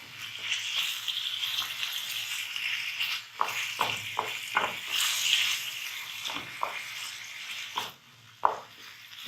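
Kebab mixture seasoned with black pepper frying in a pan for Lebanese kebab, giving a steady soft sizzle with scattered stirring scrapes and clicks throughout, no talk.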